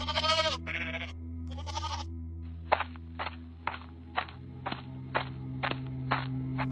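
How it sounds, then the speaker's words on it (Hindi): Goats at night in a cartoon farm setting let out three loud quavering bleats in quick succession, then a string of sharp regular clicks or steps follows over a low steady hum. "ये बकरियां भी काफी शोर मचा रही हैं"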